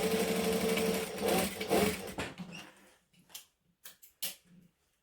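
Sewing machine stitching a fabric circle bag, a steady mechanical whir for about three seconds that stops, followed by a few short clicks and handling sounds.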